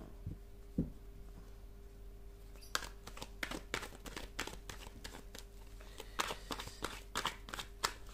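Tarot cards are shuffled and laid out in a quiet room, producing a quick run of soft riffling snaps and flicks after a few isolated taps, close and fairly faint.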